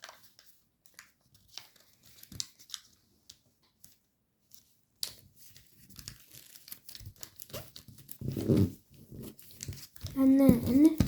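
Paper being pre-creased and rabbit-ear folded for an origami main battle tank model: sparse faint crinkles at first, then denser, louder crackling and crunching folds building toward the end.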